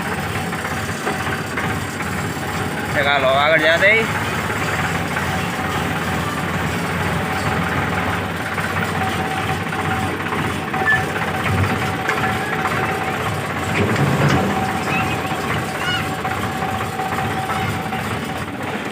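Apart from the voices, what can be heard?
tractor engine being driven out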